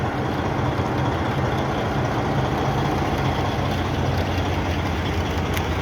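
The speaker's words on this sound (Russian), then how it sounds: "Мотор четко работает." A car engine runs at a steady idle, a loud, even, low droning rumble that continues unchanged throughout, with no talking over it.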